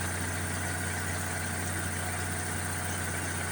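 Onan 4 kW generator engine running at a steady idle, a close, loud, even mechanical drone with constant vibration and no speech.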